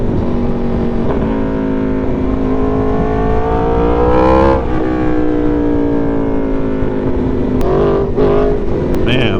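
An Aprilia Tuono V4 motorcycle engine revs loud and close while riding, rising through the gears and falling back, with wind noise and a brief voice near the end.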